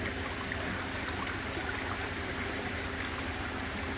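Water spraying steadily from a shower outlet into a koi pond at a koi farm, a constant close splashing hiss with no talk.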